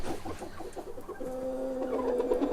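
Chickens shut inside a coop on a snowy day keep up a run of close, busy clucks and murmurs, with one bird breaking into a longer, drawn-out call toward the end.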